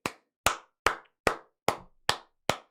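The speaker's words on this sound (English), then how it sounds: "This is for Jenny. This is the Jenny clap." Seven sharp hand claps by one person, evenly spaced and close, each crisp and isolated with silence between.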